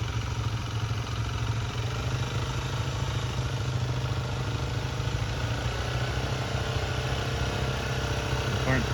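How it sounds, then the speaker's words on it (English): A Honda ATV engine, fitted with a ski setup, chugs loudly and steadily at low revs as it crawls in low first gear over a pile of sticks, with people talking faintly in the background. "Super low first gear crawl."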